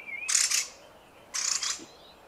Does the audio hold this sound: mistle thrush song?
yes